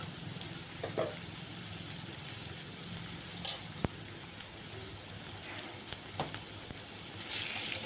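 Chopped garlic and four or five green chillies stir-frying for a Malabar spinach dish: a faint, steady sizzle with a few sharp scrapes and taps of a utensil, quiet and close, without speech.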